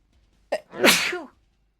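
A single sharp sneeze from a Space Marine character in Warhammer 40K Deathwatch, a quick intake followed by a loud, breathy burst, close and alone against silence.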